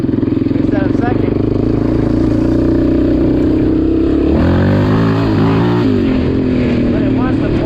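A 2006 Yamaha Raptor 700 ATV engine droning loudly and close as the rider attempts wheelies in third gear, pitch rising and dropping with throttle changes under a steady buzzing thump.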